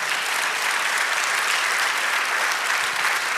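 A church congregation claps loudly and continuously during a Spanish-language sermon, a thick, close wash of applause with no voices on top.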